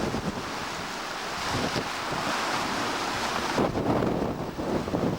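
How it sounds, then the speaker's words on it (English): Strong coastal wind roars and buffets the microphone at Saltwick Bay, with surf washing beneath in a continuous, loud, rushing wash and gusts swelling toward the end. "Sorry for the shake, but it's so windy here."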